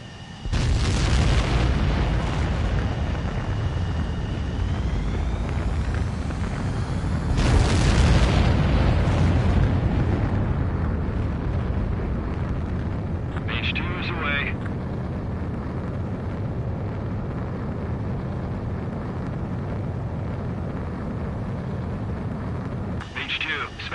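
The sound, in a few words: fighter jet takeoff sequence in a video game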